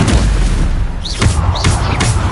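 Booming spell blasts from Bombarda in Hogwarts Legacy, two or three sharp thuds with a whooshing magical sweep over a steady rumbling game background.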